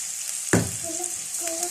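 Chopped green chilies drop into hot oil with garlic, setting off a sudden loud burst of sizzling that settles into a steady crackling fry, close by.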